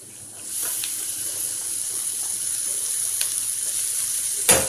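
Onion and tomato sautéing in a pan for a kids' noodle recipe, a steady soft sizzle and hiss running throughout with a few faint scrapes and a louder clatter at the end.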